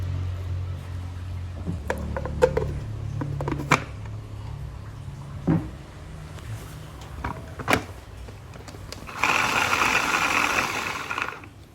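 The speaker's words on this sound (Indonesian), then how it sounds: "bawang merahnya sekitar 8 siung kita haluskan, kemudian jahe 1 ruas, kemudian cabai merah ini semuanya kita haluskan ya sampai halus" A kitchen blender grinds shallots, ginger and red chilies into a paste, a dense whirring burst arriving late after scattered clatter and knocks of the ingredients being loaded, loud and close with no talk.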